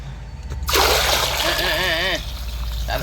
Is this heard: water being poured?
yes